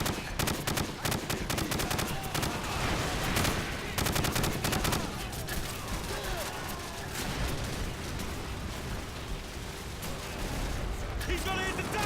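A Call of Duty 4 ambush on an enemy convoy erupts in heavy overlapping gunfire, with rapid automatic bursts and booming impacts that roll on under shouted voices and gradually settle into a rumbling battle din.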